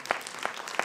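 An audience at a conference in Agra claps for Swami ji, with a few scattered, moderately loud claps in a very brief burst.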